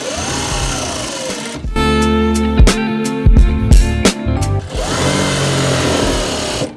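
A sewing machine quilts bomber jacket fabric in close, loud bursts of rapid stitching, stopping and starting several times as the direction changes, with quieter room sound before and after.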